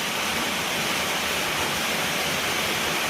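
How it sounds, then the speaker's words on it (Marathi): A steady, dense hiss of heavy rain pours without pause, even and unbroken. "लय पाऊस चाललाय बाहेर"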